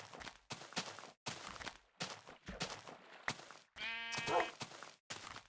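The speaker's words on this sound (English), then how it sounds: "Ah, more sheep." A sheep in the Minecraft video game gives one clear, close bleat partway through, amid a steady run of loud, crunchy gameplay bursts like footsteps or block sounds; no one talks.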